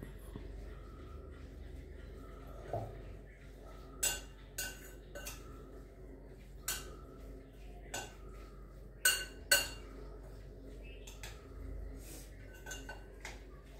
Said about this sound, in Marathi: चांगलं सगळं मिक्स करून घ्यायचं हे